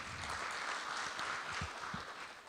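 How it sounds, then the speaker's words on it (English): Audience applause at a townhall gathering of Kenyans in America, a steady wash of clapping from a crowd, fairly faint and distant, holding even throughout. "Please clap for yourselves, ladies and gentlemen."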